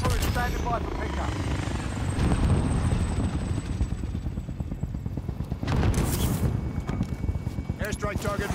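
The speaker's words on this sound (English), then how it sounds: "Chopper is standing by for pickup." Helicopter in the Call of Duty Warzone video game, its steady rotor chop running throughout amid game effects and occasional bursts, with speech present.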